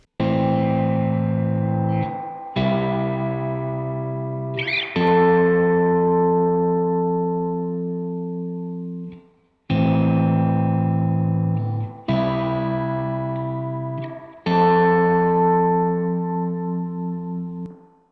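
Electric guitar chords ring out through a BOSS RE-202 with a lush reverb tail, struck in several phrases that sustain and slowly decay, with no echo repeats.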